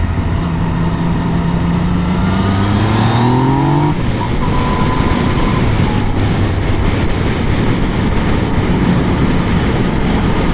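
Yamaha motorcycle engine under way, loud and close, with a rising tone and then a drop around a gear change, settling into a steady drone mixed with heavy wind rush.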